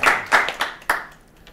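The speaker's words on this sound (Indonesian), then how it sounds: "Oh, tepuk tangannya kencang banget nih." A few loud, sharp hand claps in a TV studio during a special talk program with newspaper editors-in-chief, sparse bursts that fade out over a second and a half.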